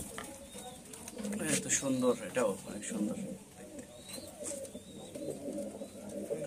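Pigeons of many breeds coo softly in a loft, their low, rolling calls overlapping and continuing while people talk nearby.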